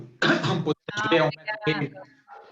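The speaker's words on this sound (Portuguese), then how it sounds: "Eu só engasguei agora comigo mesmo." A man coughs and clears his throat after choking, a few harsh close bursts separated by short gaps, with some voiced sound mixed in.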